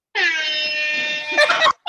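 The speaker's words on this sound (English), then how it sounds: "I'll even pull out the air horn button" A loud, sustained air horn blast holds for over a second, then breaks into a few short honks before cutting off.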